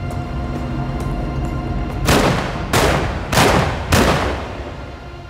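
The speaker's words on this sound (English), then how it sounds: "The gunman came in and began firing." Four loud, close blasts from a .38 caliber revolver and a double-barreled shotgun fire in quick succession, each a sharp boom with a short decaying tail after a quiet start.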